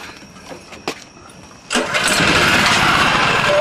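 A 3500 watt generator engine, choked, cranks with a brief pull around the one-second mark, then catches at about 1.7 seconds and settles into a loud, steady running roar until the end.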